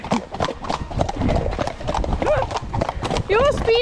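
Horse trotting on stony ground, a quick, steady clip-clop of hooves close by, mixed with talk and a couple of whinnies toward the end.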